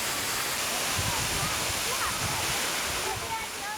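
Jeongbang Falls on Jeju Island roars as a steady, broad rush of falling water, loud and unbroken throughout, with a voice speaking over it.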